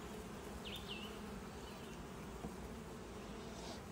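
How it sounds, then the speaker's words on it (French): Honey bees kept close to their hive after heavy rain make a faint, steady buzz, with a few brief higher passes of individual bees. "Les pauvres abeilles ont été confinées dans leur ruche à cause de la grosse pluie"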